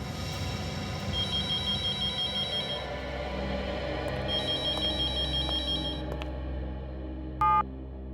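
A telephone rings in two bursts of rapid electronic trills, each lasting a couple of seconds over a low background hum, followed by a short beep.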